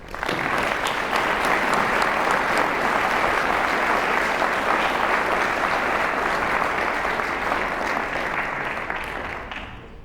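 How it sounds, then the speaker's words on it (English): Sustained audience applause fills the room at a tenth anniversary celebration, a dense, even wash of clapping from many hands that holds steady for about ten seconds before tapering off at the end. "I was hoping we can give each other a round of applause"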